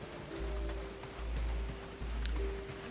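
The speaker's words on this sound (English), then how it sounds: "it's raining again. Wow. It rains a lot in this game." Rain in a video game patters steadily in a soft, even hiss, with low swells rising and falling underneath.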